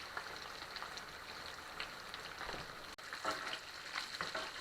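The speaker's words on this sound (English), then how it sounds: "We're just going to put a little bit of this butter, thyme, and rosemary from the steaks into the eggs. Get these eggs cooking." Eggs frying in butter with thyme and rosemary in a cast iron pan beside ribeye steaks, a steady, dense crackling sizzle that runs continuously with small spatters, quiet and close, no speech.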